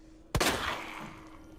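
A burst of gunfire in Resident Evil 2 on PC: a sharp, loud report followed by a rattling, decaying tail, heard alone with no voices over it.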